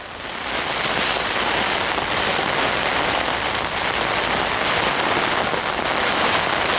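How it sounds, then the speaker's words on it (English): Heavy rain pours steadily onto a surface at a fishery lake, making a dense, continuous hiss that stays loud and even throughout, with no voices. "the ST1 is more than enough room for the two of us to hide from this horrible rain"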